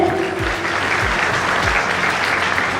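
Dense, loud audience applause for a school topper at an honours ceremony, continuous clapping from a crowd with a few low thumps underneath.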